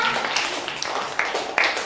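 A classroom group claps for a team of students, a brief burst of many hands with a few sharper individual claps, close and fairly loud, with no talking over it.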